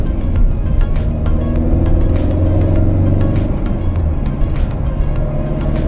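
A Tata Nexon diesel car accelerates, its engine droning loud and close with a rising rumble, heard from inside the cabin over road noise and no talking.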